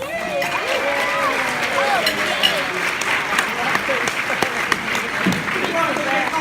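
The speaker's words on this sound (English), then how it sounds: "give a warm round of applause for Miss Sylvia Barnes." Sustained audience applause fills an event hall as a guest, the mother of an exoneree, is welcomed onto the stage; dense, steady clapping with crowd cheers and voices mixed throughout.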